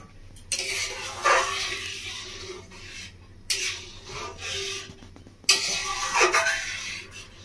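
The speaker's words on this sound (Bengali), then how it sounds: "এটাকে একটু হালকা করে নেড়ে নেবো" Tomato soup with mixed vegetables and mushroom stirred in a pot, three separate bouts of scraping and rubbing from a spoon against the pot, close and moderately loud, with quiet pauses between.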